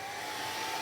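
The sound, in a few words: craft heat dryer drying a paper tag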